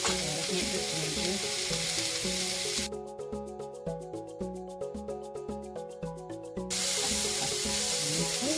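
Veggie fried rice with garlic and ginger sizzling loudly in a hot pan, a dense continuous fry with rhythmic stirring scrapes partway through, no voices.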